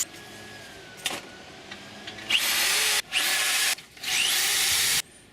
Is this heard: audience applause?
no